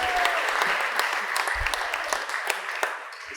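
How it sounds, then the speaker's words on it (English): Wedding guests applaud after a toast at the reception, a close, lively burst of many hands clapping that holds steady throughout with a few scattered voices mixed in. "I think that should be a clap."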